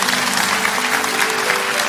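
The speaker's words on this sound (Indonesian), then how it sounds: "kasih tepuk tangan untuk Tuhan" A church congregation claps steadily throughout, a dense, even wash of applause with no talking over it.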